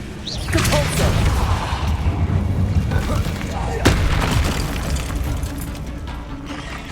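Compulso spell blast in Hogwarts Legacy, a booming force impact within a continuous rumble of game noise, with one sharp crack partway through before the din gradually eases.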